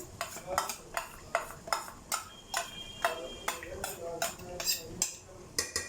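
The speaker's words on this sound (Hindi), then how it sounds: "अच्छे से इसको निकाल लेंगे और मिक्स कर देंगे।" A spoon stirs yogurt and masala into chicken in a metal pot, with regular scraping clinks against the pot sides repeating at a steady rhythm, close up.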